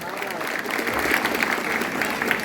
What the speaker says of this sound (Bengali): অনেক জোরে অনেক বড় করে হাততালি দিয়ে